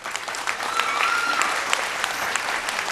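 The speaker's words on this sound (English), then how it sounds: "Round of applause, please, for our official airline carrier," Audience applause at a televised vocal competition show, a steady wash of many hands clapping at moderate distance, sustained for the whole stretch.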